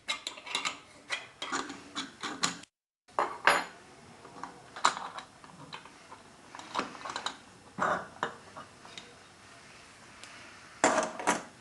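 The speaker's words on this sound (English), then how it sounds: "Loosen and remove the upper clamp." Metallic clanks, ratcheting and scraping as the upper clamp of a hygienic stainless SSV valve is loosened and removed. The sharp clinks are irregular and close by, with a brief silent gap early on and no speech.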